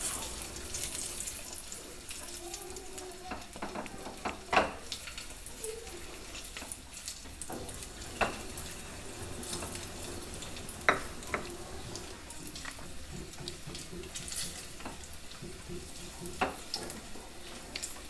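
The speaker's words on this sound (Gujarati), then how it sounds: "પાછું આપણે એમાં 1 ચમચી ઘી નાખી દઈએ અને હવે આપણે આપણી કિસમિસને એમાં તળી લેશું" Raisins frying in a spoonful of ghee give a soft, steady sizzle and crackle, with occasional light clinks of a spoon stirring the pan; no one speaks.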